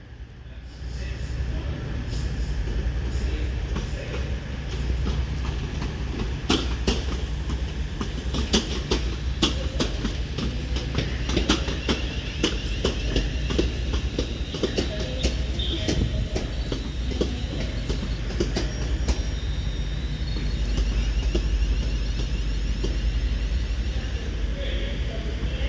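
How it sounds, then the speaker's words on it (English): A Class 350 electric multiple unit pulls into Crewe station on the West Coast Main Line, its steady rolling rumble and clickety-clack of wheels over rail joints continuing throughout, close and loud, with some faint talk. "350 terminates into Crewe now with the service"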